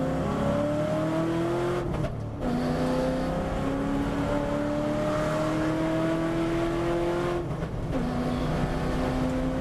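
A V8 race car on a hot lap revs hard through the gears, its engine note climbing steadily with brief drops at two quick gear changes, loud and close with tire noise underneath and no talk.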